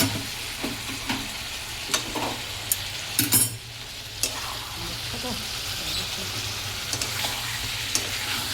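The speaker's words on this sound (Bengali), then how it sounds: "দেখো চিকেনটা কষানো হচ্ছে, এখনো হয়নি।" Chicken being sautéed in a pan for a Bengali home-cooked dish, a steady soft sizzle with intermittent scrapes and stirring knocks of a spatula, continuous and close.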